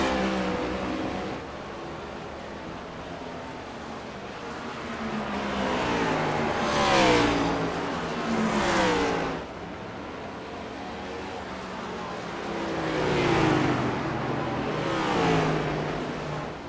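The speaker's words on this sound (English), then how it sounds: "Just watching that 25 absolutely hustle that car into and off the corners, all kinds of slideways, grabbing a gear" Race cars lapping Watkins Glen in the iRacing sim, engines droning and swelling as several cars rev, shift and sweep past in repeated loud waves, with tire scrubbing under hard cornering.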